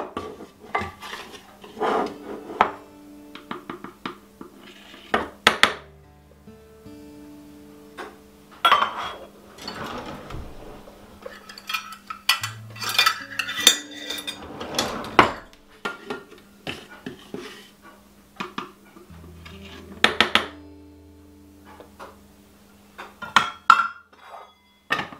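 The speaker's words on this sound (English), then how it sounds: "I'm going to mix my dry ingredients in just a small mixing bowl" Dry ingredients, including all-purpose flour, are stirred in a small mixing bowl, with repeated clinks and scrapes of a utensil against the bowl in irregular bursts and pauses over a quiet background.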